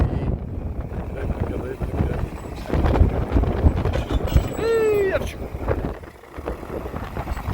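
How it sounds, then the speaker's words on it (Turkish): Wind buffets the microphone as a low, steady rumble, with clattering and a brief whistle-like tone partway through. "Oo, biraz bir rüzgar var ya bey."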